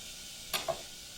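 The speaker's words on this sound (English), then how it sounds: "We'll know it's hot when we throw the onion in and it starts sizzling." Onion dropped into hot oil gives a brief burst of sizzling over a steady frying hiss, close and moderately quiet, with two quick crackling spikes and no talking.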